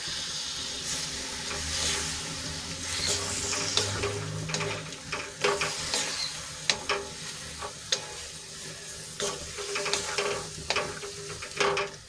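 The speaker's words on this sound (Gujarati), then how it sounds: "અને હવે એમાં આપણે બાજરીના રોટલાના જે કટકા કર્યા હતા એ એડ કરી દઈશું અને સરસ રીતે મિક્સ કરી લઈશું" A spoon stirs broken pieces of bajra rotla through spiced masala in a pan, steady scraping and soft sizzling running close and continuous, with sharper clinks of the spoon against the pan near the end.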